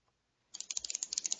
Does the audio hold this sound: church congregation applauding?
no